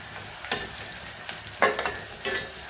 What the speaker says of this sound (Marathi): कांदा थोडासा गरम करायचा, जरा लाल होईपर्यंत असा.